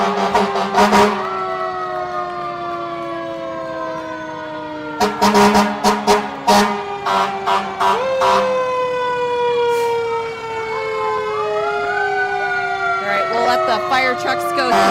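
Fire trucks roll past in a hometown hot air balloon festival parade, several sirens wailing and gliding in overlapping tones with short horn blasts, loud and close, while onlookers talk.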